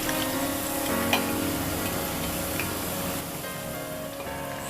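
Rava vada frying in hot oil after being flipped, with a steady dense sizzle and bubbling, a couple of brief clinks, and the sound easing slightly near the end.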